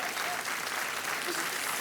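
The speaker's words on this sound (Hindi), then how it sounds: "तालियां बजती रहे" A studio audience on the quiz show Kaun Banega Crorepati applauds in a steady, dense roar of clapping that is loud and continuous for the short span.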